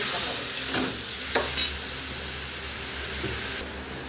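Coriander powder sautés in a hot pan for a green banana kofta curry with egg, a constant close sizzle broken by a few short spatula scrapes, then fading slightly at the end, with no speech.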